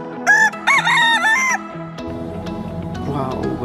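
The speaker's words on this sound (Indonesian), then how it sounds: "Wow, bagus sekali, ayam jantan teman-teman." A rooster crows loudly and close up in a couple of bursts, with a warbling rise and fall. Lower tonal background sound continues after the crow fades.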